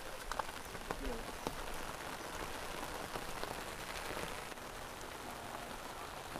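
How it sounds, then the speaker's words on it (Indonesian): Rain falls on a rocky path in a Sundanese village, a soft, steady patter with scattered drips, faint and even throughout, with a hint of a nearby voice. "Hujan ya teman-teman"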